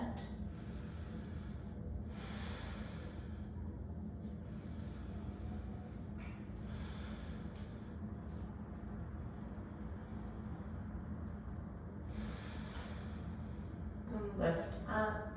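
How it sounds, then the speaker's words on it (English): Slow, audible breaths in and out during a yoga back bend, with several soft airy inhales and exhales spaced a few seconds apart over a low steady background hum. "Breathe in and then exhale 3 breaths in your back bend."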